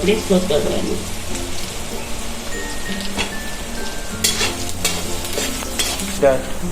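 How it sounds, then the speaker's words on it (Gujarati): Chopped onion sautés in hot oil in a pan while being stirred, giving a continuous sizzle broken by repeated spatula scrapes and clinks close by. "આપણી ડુંગળી એકદમ તેલમાં સતોડાઈ ગઈ છે"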